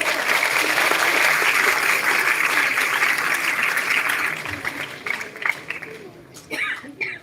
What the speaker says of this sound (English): So once again, a round of applause for Ms.